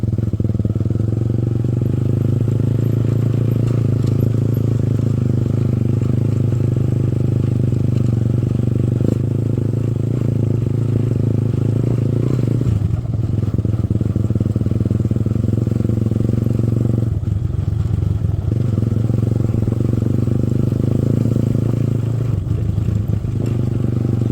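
Motorcycle riding along a rural route toward a temple campsite with a rider and pillion passenger, the engine drone steady and close throughout, with brief dips and a rough clattering texture.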